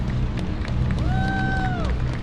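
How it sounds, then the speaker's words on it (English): A crowd at a junior heifer livestock show in an arena claps steadily for the young exhibitors, a dense, even patter of applause over a low rumble, with a brief tonal sound in the middle. "Give those kids a nice round of applause."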